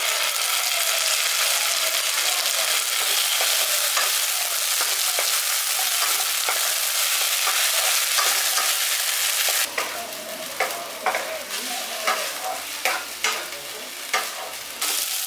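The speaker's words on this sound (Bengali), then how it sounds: "এখানে আদা রসুনের পেস্টটা দিয়ে এটাকে ভালো করে কষিয়ে নিয়েছি আলুর সাথে" Ginger-garlic paste fries with potatoes in a pan for a brinjal potato masala, giving a steady loud sizzle that turns sparser partway through, with a series of sharp spoon scrapes and knocks against the pan and no talking.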